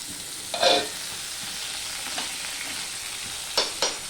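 Tomato hitting hot oil with ginger in a pan, a steady close sizzle broken by a few sharper spattering bursts as it fries.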